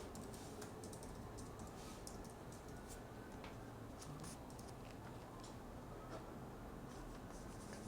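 Someone types a search on a computer keyboard, with rapid scattered key clicks, fairly faint, over a steady broadband background hiss.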